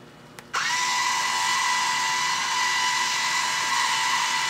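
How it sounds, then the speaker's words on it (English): A Purifiner water softener's internal auger motor starts up after a faint click and runs on as a steady mechanical whir with a constant tone, advancing the regeneration cycle; close, even and unbroken, no one talking. "the internal auger will move and advance the internal components to the appropriate cycle"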